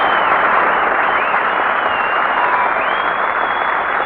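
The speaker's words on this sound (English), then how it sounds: "You got, you got more applause than I did." A studio audience at a 1943 radio comedy broadcast claps in a broad, sustained burst, many hands blending into a steady roar heard alone with no talk.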